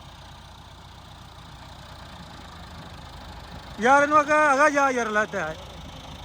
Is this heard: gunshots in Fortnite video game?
no